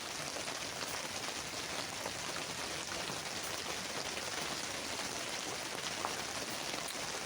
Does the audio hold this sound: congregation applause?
no